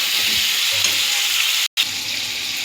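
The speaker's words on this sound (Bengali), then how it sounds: "তো দেখুন আমি আলুটা প্রথম কষিয়ে নেব" Potatoes and green peas frying in a pan for a Bengali dish, giving a loud, dense, continuous hiss close by, broken by one brief dropout near the end.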